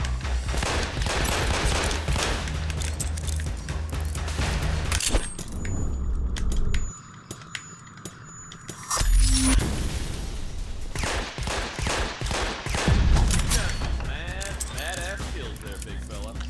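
Bursts of rapid gunfire from a gun in Hitman: Absolution rattle on and off through most of the stretch, dropping out briefly to a quieter gap before the shooting resumes, loud and dense.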